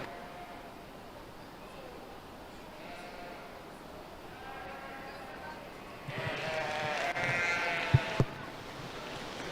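Sheep bleat at a 4-H and FFA county fair livestock show, faint and distant over a steady hall murmur, with the barn din swelling and a couple of sharp knocks near the end.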